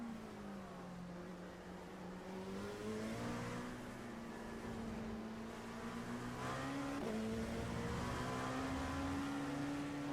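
LMP2 prototype race cars in iRacing during an IMSA Indy 6 Hour race closing in from behind, steady engine drone with rising and shifting pitch as they approach and pass, moderately loud and continuous.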